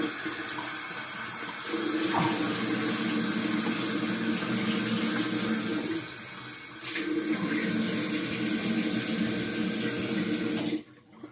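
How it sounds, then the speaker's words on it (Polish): Warm water runs steadily from a tap into a sink for washing the face, loud and close, the flow shifting briefly midway before cutting off at the end. "Twarz moczymy oczywiście ciepłą wodą."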